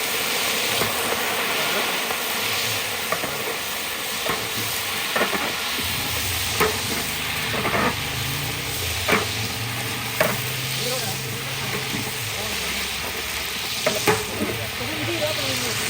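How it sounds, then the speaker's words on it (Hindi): Onions frying with a little added water in a pot for degi rice, a steady bubbling sizzle with occasional stirring scrapes throughout, fairly close and alone. "थोड़ा सा इसमें हमने पानी ऐड कर दिया है ताकि इसमें प्याज जो है वो अच्छी तरीके से गल जाए।"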